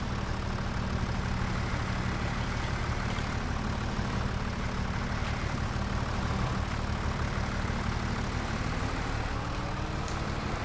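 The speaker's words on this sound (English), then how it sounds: "Oh, engine's running. Turn that off." A vehicle engine running in Farming Simulator 25, a steady low rumbling drone that holds constant and fairly loud for the whole stretch, with no speech over it.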